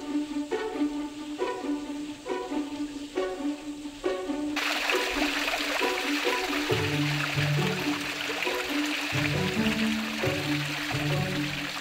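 Water trickles and splashes steadily in a garden sound bed meant for quiet sitting, a soft continuous babble with faint intermittent tones over it and no speech.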